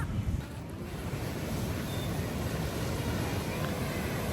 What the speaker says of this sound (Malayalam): ഇരമ്പി അടിക്കുന്ന കടൽ.